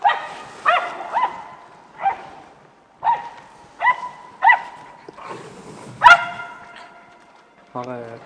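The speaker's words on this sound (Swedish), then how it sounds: "Här är två hundar framme vid grisarna." Hunting dogs bay at wild boars during a driven hunt, with repeated loud, sharp barks and yips arriving in uneven bursts close by and a brief human voice near the end.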